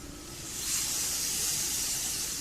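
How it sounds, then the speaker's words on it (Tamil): Thick ground coconut milk poured into a hot potato masala, giving a steady, close hiss and sizzle that swells after the first half-second and then holds evenly, with no voices. "இப்போ வந்து கெட்டியாக அரைச்சி வச்ச தேங்காய் பால் சேர்த்துக்கலாம்"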